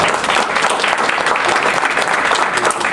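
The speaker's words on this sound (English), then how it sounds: "I think a round of applause is certainly" Close, loud round of applause from a gathered audience, dense continuous clapping filling the whole stretch without any speech.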